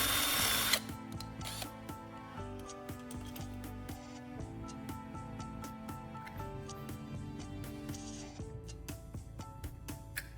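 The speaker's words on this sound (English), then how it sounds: "I drill a hole in the side of the charger casing." Small power drill whirring as it bores through a plastic phone charger casing, with rising and falling motor pitch and brief stops over about ten seconds, close and fairly quiet.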